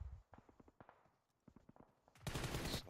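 Rapid automatic gunfire in the battle-royale game BGMI during a PMGC 2022 esports match: sharp bursts of shots stutter across the opening seconds, then a loud, dense blast of noise takes over near the end, with no talk.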